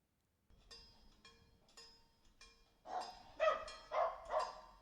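A dog barks alone in short, repeated bursts, first a few spaced single barks, then louder, denser barking toward the end, fairly close.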